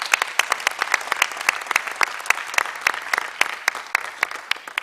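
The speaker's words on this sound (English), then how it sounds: "I think that deserves a mighty hand clap" Applause at a public lecture in Uganda, with sharp individual claps standing out over a softer crowd clapping that keeps an uneven but steady rhythm.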